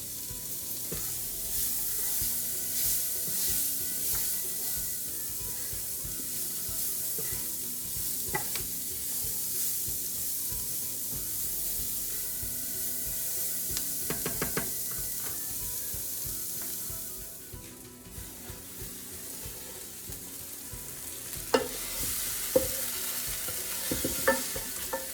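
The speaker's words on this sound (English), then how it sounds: "I'm frying up all the spices for the curry in some oil and then adding the onion to the pan to deglaze it a little bit" Curry spices and onion frying in oil in a pan, giving a steady sizzle with occasional stirring clinks and scrapes, close and moderately loud, with no voices over it.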